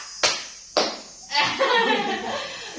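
Hand clapping during a clap exercise in an individual counseling session: two sharp, separate claps, then a louder burst of clapping mixed with voices and chatter.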